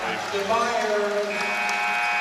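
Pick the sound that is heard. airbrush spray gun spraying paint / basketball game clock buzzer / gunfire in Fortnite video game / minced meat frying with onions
basketball game clock buzzer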